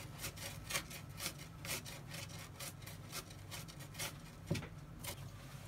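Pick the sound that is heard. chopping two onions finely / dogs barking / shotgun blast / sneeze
chopping two onions finely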